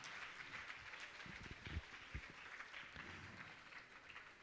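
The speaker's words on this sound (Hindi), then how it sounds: "आपकी तालियां बड़ी कमजोर हैं" Applause at a Jain religious gathering honouring a family, a broad steady wash of clapping from a crowd across the whole stretch with a few louder claps standing out midway.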